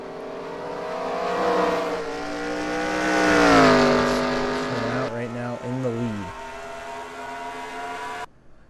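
Xfinity stock cars race at New Hampshire in the NR2003 racing game, engines droning loud and near with rising and falling pitch as cars sweep past, one roaring by close, with a commentator talking over them.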